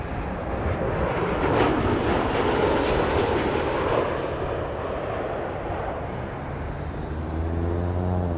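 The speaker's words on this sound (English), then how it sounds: "Max 8 is Iceland Air coming in from Reykjavik" Icelandair Boeing 737 Max 8 airliner from Reykjavik landing at Toronto Pearson, a loud, broad, continuous engine roar that holds steady and then takes on a sweeping, shifting tone near the end, heard from outside with no talking.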